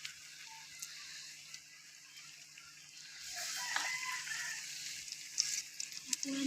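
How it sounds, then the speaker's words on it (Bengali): Eggplant slices deep-fry in hot oil for Bengali beguni, a faint bubbling sizzle that swells louder halfway through and crackles with small pops, with no talk over it. "এভাবে লাল লাল করে ভেজে নিয়ে"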